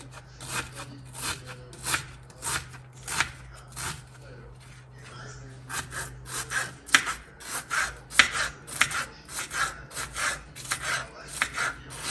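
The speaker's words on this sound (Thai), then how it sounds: "แล้วก็หั่นหอมใช่ไหม" A knife slices through a large onion on a cutting board in steady rhythmic strokes, close and crisp, over a low hum.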